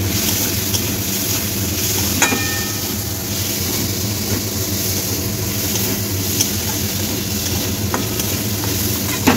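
Dal frying loudly in oil with dried red chilli and garlic, a steady dense sizzle that runs throughout with occasional stirring scrapes, close and without speech.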